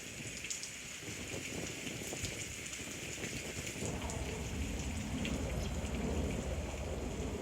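Heavy wet-season rain pours down steadily in a prehistoric wilderness, a dense continuous hiss of drops on surfaces with a faint low rumble beneath, no voices.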